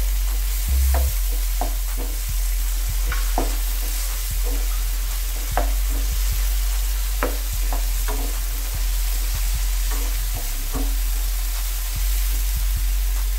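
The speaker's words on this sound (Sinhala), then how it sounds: "අවමිරිස් විනාඩියක් විතර ඒ ටික බැදෙනකොට කැලිමිරිස් ටික දාගන්නවා" Chilies frying in hot oil in a pan with pepper added, a steady loud sizzle running throughout, broken by repeated scraping stirs and light clinks of the spoon.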